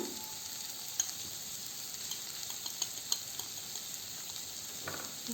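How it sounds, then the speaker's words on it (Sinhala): Soft sizzling from a pan of okra curry with occasional light scraping and tapping as it is stirred, steady and fairly quiet, no voices. "අවශ්‍ය ප්‍රමාණයට පරිස්සමට කලවම් කරගන්න."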